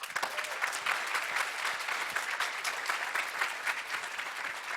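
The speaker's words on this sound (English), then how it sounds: "So how about a round of applause for Carl?" Dense, steady applause from a large audience at the HackIllinois 2017 hackathon opening ceremony, sustained at an even level with no speech over it.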